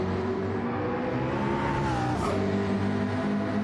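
McLaren Gr3 race car engine in a racing video game at Brands Hatch, a loud sustained engine drone with steady harmonic tones that shift pitch slightly as it revs and changes gear.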